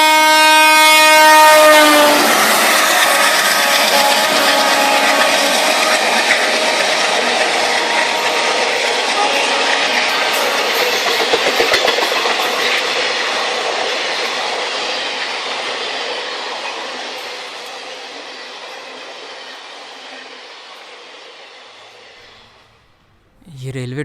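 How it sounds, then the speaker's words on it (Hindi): A train rolls past on a railway track running close behind a house, loud and broadband from the start with a brief horn blast, its roar slowly fading over about twenty seconds as it moves away. "ये रेलवे ट्रैक बहुत नज़दीक है ना?"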